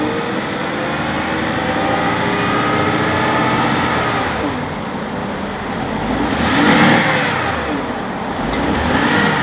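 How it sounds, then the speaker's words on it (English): A warmed-up BMW 750iL V12 car engine revs continuously, its pitch rising and falling, with a louder surge near the end; no voices. "The car has warmed up now, so let's give it a few revs and see how she sounds."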